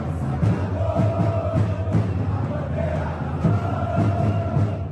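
Flamengo football supporters fill a stadium with a steady, dense roar of chanting and cheering, the massed voices rising and falling in rhythmic waves at a distance.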